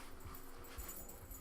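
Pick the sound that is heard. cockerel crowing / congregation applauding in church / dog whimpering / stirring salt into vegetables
dog whimpering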